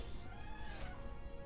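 A pet kitten meows in a drawn-out, wavering cry over a continuous bed of loud background noise, close to the microphone.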